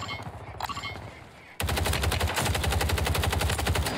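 The FJX Horus SMG in Call of Duty on Rebirth Island opens up with a sudden, loud, rapid stream of fully automatic fire that runs steadily after a quieter lead-in.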